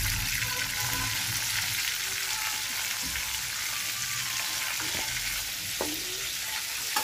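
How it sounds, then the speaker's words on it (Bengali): Pointed gourd (potol) frying in oil in a pan, a continuous close sizzle with occasional light taps and scrapes from a utensil, no talking. "আমার পটলগুলো ভাজা হয়ে গেছে, এবার আস্তে আস্তে করে আমি তুলে নেব"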